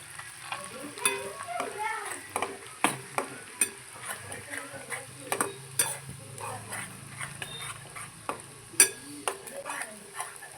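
Garlic frying in oil for garlic rice, a soft continuous sizzle broken by frequent sharp spatula taps and scrapes against the pan, close and fairly quiet.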